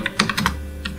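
Keys clack on a computer keyboard while a first C program is typed out, a quick run of four or five close, crisp keystrokes in steady rhythm followed by a short pause and one more tap, with no voices.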